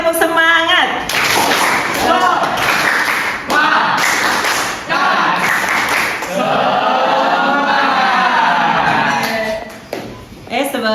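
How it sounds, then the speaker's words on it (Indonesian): A classroom does a rhythmic spirit clap led by the teacher, with bursts of clapping and thumps running under loud talk and chanting voices, then a final few claps. "sebelum belajar, alangkah baiknya kita tepuk semangat biar pada semangat ya"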